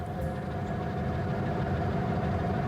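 Steady low engine idle in a Sodor railway story, a continuous throbbing rumble with a constant hum, loud and close, with no variation in pace.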